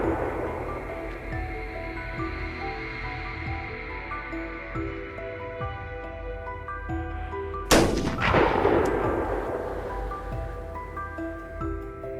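Rifle shots during a wild boar hunt, with one loud sharp crack partway through followed by a rumbling echo, set against a background of steady hum and faint rustling.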